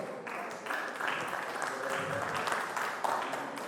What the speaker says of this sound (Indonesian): Tepuk tangan buat Pak Faruk.